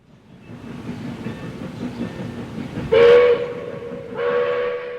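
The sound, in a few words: military train with two locomotives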